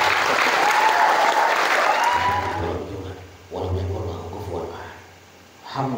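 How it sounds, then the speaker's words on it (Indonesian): Loud applause from a large audience at a motivational gathering at an Islamic boarding school, strong at first then fading, with a voice speaking over the dwindling clapping. "beri tepuk tangan yang meriah."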